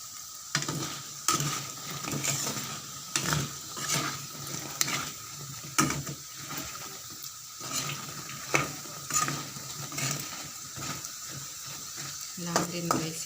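Fishballs frying in plenty of hot oil, with a steady sizzle and repeated scraping and clinking as a utensil stirs them in the pan, sharp knocks recurring every second or two.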